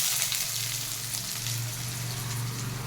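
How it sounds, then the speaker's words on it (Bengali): Onion fries lightly in oil in a wok, giving a continuous close sizzle and crackle at a moderate level over a low steady hum from the stove. "আমি পেঁয়াজটাকে হালকা করে একটুখানি ভেজে নেব বলে"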